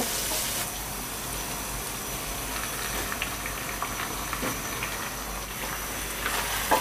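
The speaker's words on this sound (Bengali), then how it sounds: "এখন আমি এতে মুরগিগুলো দিয়ে দিব।" Chicken pieces drop into fried spice masala for a shahi chicken roast, setting off a loud, dense, continuous sizzle with crackling bursts throughout.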